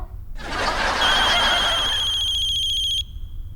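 A phone ringtone for an incoming call starts abruptly and rings loud and close, a bright electronic melody with sustained tones that cuts off sharply near the end. The phone rings alone, with no voices.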